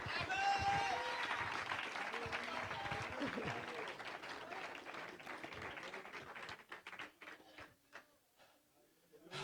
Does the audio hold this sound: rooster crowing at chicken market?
no